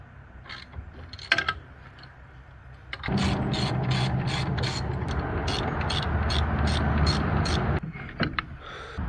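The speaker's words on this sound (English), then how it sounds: "we're just going to use our 12mm socket wrench and take off the caliper" A 12mm socket wrench ratchets loose a brake caliper bolt on a 1984-2001 Jeep Cherokee XJ, first a few scattered clicks, then a fast, even run of close clicks over a steady mechanical drone.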